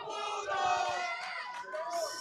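A crowd at a New Line Cagefighting event roars and cheers in a sustained swell of mixed voices that dips briefly and then rises again, with a broad, loud, fairly close feel.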